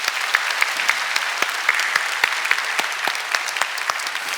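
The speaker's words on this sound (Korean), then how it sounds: "우리 하나님께 감사하는 마음으로 우리 영광의 박수 올려드립니다." A church congregation applauds at a Sunday worship service after a choir's praise song, a steady, dense wash of many hands clapping together at moderate distance, continuous throughout with no talk over it.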